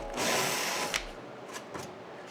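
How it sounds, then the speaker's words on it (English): Power drill boring a pilot hole through a fiberglass hood on an AE86 restomod, a close, high whirring burst lasting about a second, followed by a couple of brief lighter buzzes as the bit is eased. "We drill our pilot hole."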